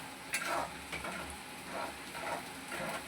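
Spices including turmeric and homemade masala frying in oil in a pan for chicken curry, a soft continuous sizzle with a few stirring scrapes, close and fairly quiet.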